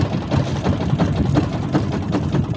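A boat engine runs steadily at low revs, a close, rumbling idle with a faint rhythmic chug, alone without talk.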